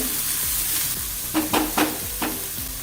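Tomato, cabbage and carrot sautéing in a pan for mixed-vegetable wheat pancakes, giving a steady sizzle with a few scraping stirs of a spatula, close and alone with no talk.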